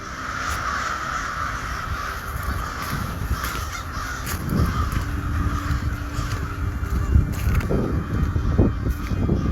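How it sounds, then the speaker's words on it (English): Several crows caw repeatedly outdoors, harsh calls scattered across the clip and growing a little louder toward the end, over steady low background noise. "Just a few crows."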